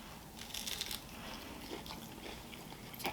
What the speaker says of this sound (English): You hear that crunch too?